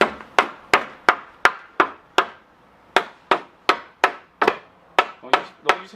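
Repeated hammer blows on wood while building a planter, about fifteen sharp close knocks in a steady rhythm with a brief pause midway, loud and distinct with no talking.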